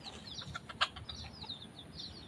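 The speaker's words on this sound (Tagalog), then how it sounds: "may mga manok din dito" Soft clucking and chirpy calls from several chickens, fairly faint and scattered, with one sharper cluck standing out.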